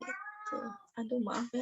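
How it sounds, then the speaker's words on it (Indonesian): A cat meows noisily in the background, a drawn-out tonal cry overlapping with a person talking indoors. "ada kucing lagi ribut"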